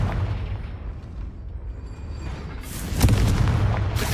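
Explosive blasting spell going off in the Hogwarts Legacy video game, a rumbling boom with low rolling energy that swells sharply near the end, with no talking over it.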